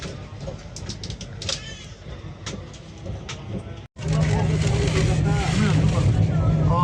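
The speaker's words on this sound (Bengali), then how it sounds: "তো ট্রেন আমাদের এখন ছেড়ে দিয়েছে" A train pulls away from a station and gathers into a loud, steady rolling rumble with a droning hum. Quieter carriage noise and voices come before it.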